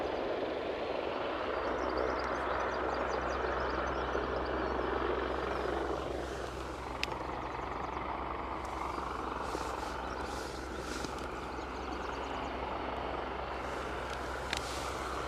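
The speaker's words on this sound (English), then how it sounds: "Oh, helicopter snuck out." An Offshore Helicopter Services Airbus H175 departing Aberdeen airport, its rotor and turbine drone loud and steady throughout, with a faint rising whine as it lifts away.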